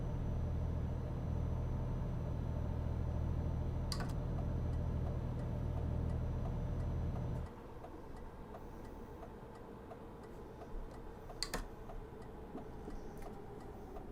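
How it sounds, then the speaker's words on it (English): A Renault truck engine in Euro Truck Simulator 2 rumbles with a deep, steady drone that drops in level partway through as the truck pulls away, with a couple of faint clicks on top. "Because it sounds like an absolute beast when you pull away with it."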